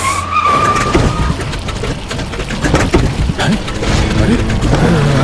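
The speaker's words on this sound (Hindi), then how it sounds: "टायरों के जोर से जमीन पर चिपकने की अजीब सी आवाज आई।" Cartoon tire screech effect of tires gripping the ground in an animated story, a loud, continuous skidding squeal with rough noise under it and a faint voice mixed in.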